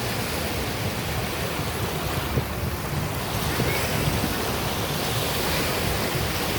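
Steady ocean surf rolling onto Fort Myers Beach, Florida, a continuous broad wash of waves mixed with gusty wind buffeting close by, with no talking.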